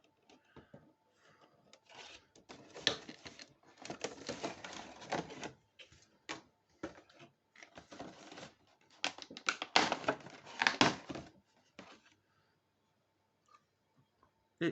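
Packaging of a Michelangelo Ninja Turtle figure being unboxed, faint close-up bursts of crinkling, tearing and rustling plastic and cardboard with short pauses between.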